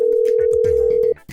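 A telephone tone sounds while a disconnected call is being redialed. It is a single steady, loud tone lasting about a second, then stops, with voices talking in the background behind it.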